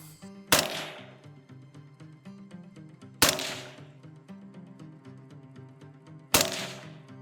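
Three sharp, loud rifle shots fire several seconds apart while zeroing a Primary Arms PLX Compact LPVO scope, each crack decaying quickly over a steady tonal background.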